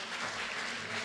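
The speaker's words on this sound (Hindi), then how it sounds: "सलाहुद्दीन सिद्दीकी के लिए भी जोरदार तालियां बजाइए" A brief burst of dense, even clapping from an audience welcoming a guest at a drama workshop, heard alone at moderate loudness with no voices.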